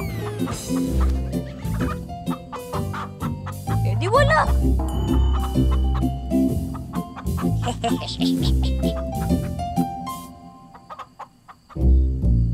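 Chickens cluck and fowl calls repeat through busy background noise, with a person speaking over them and a louder burst near the end.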